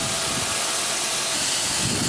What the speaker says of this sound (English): That's steam.